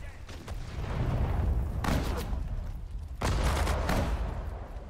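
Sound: gunfire in video game Sudden Strike 4

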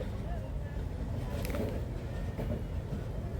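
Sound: train moving slowly with engine trouble near rail gate

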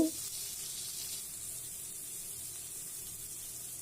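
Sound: frying onions and spices in a pan

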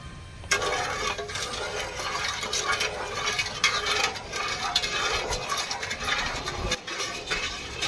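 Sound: stirring agar agar powder into water with a spoon

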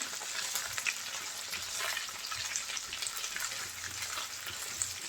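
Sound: pangas fish frying and being stirred in a pan

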